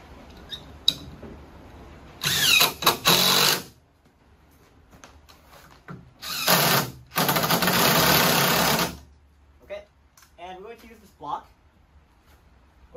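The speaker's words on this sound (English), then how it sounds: "what I'm going to do here is we're going to screw this in" A drill drives screws into wooden floor joist blocking in two loud bursts, the first about a second and a half long and the second longer, with someone talking between them.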